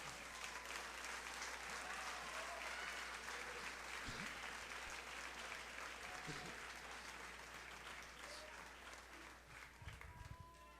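A church congregation claps together in sustained, dense applause during a sermon, heard at a steady level with a low constant hum underneath and faint voices mixed in.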